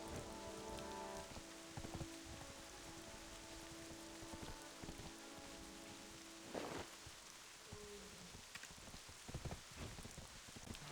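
Steady rain falls in Black Desert Online, a dense hiss of drops on surfaces with occasional heavier splatters, continuous and even at a moderate level with no speech.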